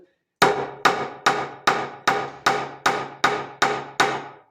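Ten sharp hammer taps on a plug laid against the hammer in a steady, even rhythm, each a crisp metallic strike with a short ringing decay, close and fairly loud with nothing else heard.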